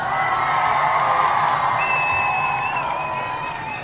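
An audience applauds and cheers at an Umoja Day show, giving a dense, continuous wash of clapping with scattered whoops and shouts throughout, close and fairly loud, with a faint voice briefly audible in the mix.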